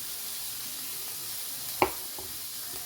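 A New York strip steak sears in a hot pan just after being flipped, giving a steady broad sizzle throughout with one sharp clack of the meat or tongs midway; no talking.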